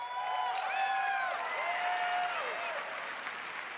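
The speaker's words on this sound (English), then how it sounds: "I'll see you there, clapping." Sustained applause from a large crowd at the Bethesda gaming conference, dense and continuous, with rising and falling whistles or whoops carrying over the clapping.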